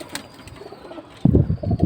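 Pakistani Kasuri pigeons coo softly up close, then a sudden burst of wing flapping and shuffling breaks out in the second half of the short moment.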